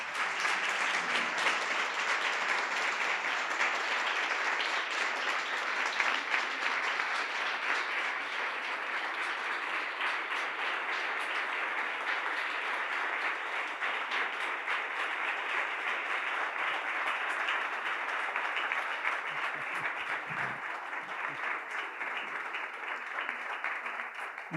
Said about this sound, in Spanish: lo mejor que podemos hacer es dar un gran aplauso y recibir a Marly Quennert.